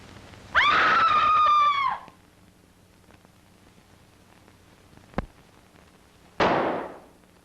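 A woman's scream rings out loud and close for about a second and a half, followed by a quiet stretch broken by a sharp crack, then a second shorter shriek near the end.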